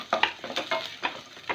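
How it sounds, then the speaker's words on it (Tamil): Onion with dried red chillies and green chillies sautés in a pan: close, lively sizzling broken by quick scraping stirs in an uneven rhythm. "வரமிளகாவும் பச்சை மிளகாவும் ஆட் பண்ணிக்கிறேன்."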